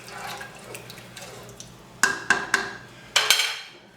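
Water pouring and splashing into a large pot of beans on the stove, steady faint trickle at first, then several louder sloshing bursts near the end.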